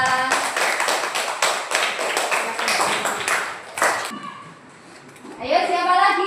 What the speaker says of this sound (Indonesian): Tepuk tangan untuk kelompoknya Mbak Najla.